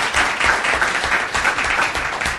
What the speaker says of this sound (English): great hand of applause